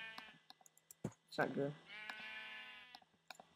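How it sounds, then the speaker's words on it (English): Sheep bleat in the video game Minecraft, several short cries close by and overlapping, with someone speaking briefly over them. "I think these are sheep"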